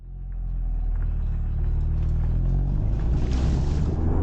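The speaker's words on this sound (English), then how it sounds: "how good this car now sounds revving at a standstill" A 2023 Mercedes-AMG A35 engine revs at a standstill, a deep steady rumble that builds and holds loud and close, with no voices.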